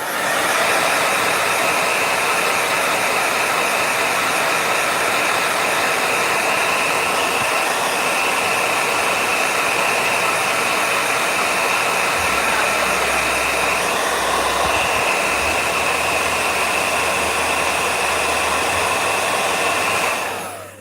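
A hair dryer blows steadily at close range, a constant high whirring roar that holds unchanged for about twenty seconds before cutting off.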